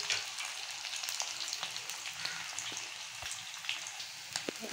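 Pieces fry in hot oil in a pan for an egg coconut gravy, giving a soft, steady crackling sizzle with scattered small pops, fairly quiet and close, with no talking.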